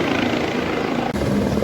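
Helicopter taking off near Kedarnath temple in the Himalayan mountains, a loud, close, steady rotor and engine roar throughout with a brief dip partway.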